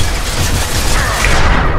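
Heavy gunfire in the video game Mass Effect 2, a dense, continuous roar of rapid shots and blasts filling the whole moment at close range, loud and unbroken.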